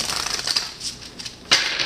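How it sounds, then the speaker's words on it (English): Oracle cards being shuffled by hand during a love reading, a soft papery riffle with a sharper snap near the end, close and fairly quiet, with no talking. "We're going to keep shuffling."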